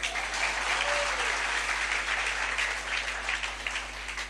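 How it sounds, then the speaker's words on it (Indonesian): Church audience at a sermon breaks into sustained applause, a steady wash of many hands clapping with a low hum beneath and a brief voice rising at the start. "Tepuk tangan dulu."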